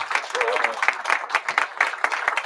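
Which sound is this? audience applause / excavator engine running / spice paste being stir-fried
audience applause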